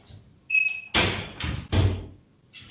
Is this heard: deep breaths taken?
no